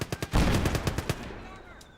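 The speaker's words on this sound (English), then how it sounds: "Get up on top of that tank, Barnes, and man that machine gun." Rapid bursts from a tank-mounted machine gun in the Gates of Hell war game, a quick rattling string of shots that swells into a dense volley and then trails off with distant echoing pops.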